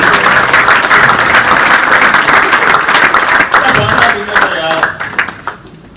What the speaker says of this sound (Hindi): जोरदार तालियां हो जाए एक बार दोबारा से